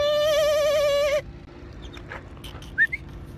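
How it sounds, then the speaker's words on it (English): A single wavering, hoot-like call lasts about a second, followed by quiet background with a couple of faint short chirps. "I need to wait for a bird to make a sound and I'll try to repeat it."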